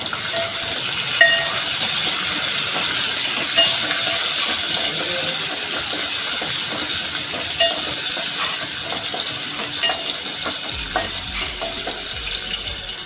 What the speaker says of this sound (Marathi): त्यानंतर हिरवी मिरची थोडं परतून घेऊया